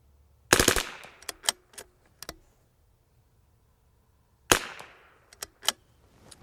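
A rimfire rifle fired with cheap ammunition at a range, two close, loud shots each followed by a few sharp metallic clicks and clatters, separated by a couple of seconds of quiet.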